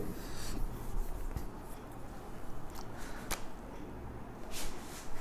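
Chalk or a marker scratches across a board during a physics lesson on conservation of energy, producing quiet, close, intermittent strokes and taps with no talk.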